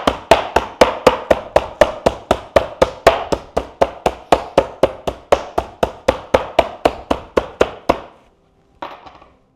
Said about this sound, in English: and then you just hammer away.